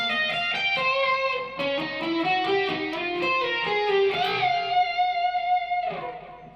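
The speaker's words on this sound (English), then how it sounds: "let's check out the first harmony part for this solo." An overdriven electric guitar plays a harmony line for the solo of Airplay's "It Will Be Alright", sustained singing notes stepping through a melodic phrase over a backing track, clear and upfront.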